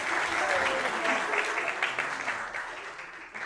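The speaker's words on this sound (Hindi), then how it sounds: "संजीव आनंद झा की जोरदार तालियां हो जाए।" A crowd gives loud, dense applause as music director Sanjeev Anand Jha is called on stage at a film poster reveal event, with a voice audible over the steady clapping.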